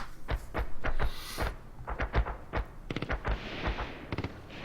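Tank main gun fire from an ASL Mod wargame, armor-piercing rounds launched at enemy armored vehicles: a rapid series of sharp, loud cannon blasts and reports, clustered in bursts with brief gaps, heard alone without talk.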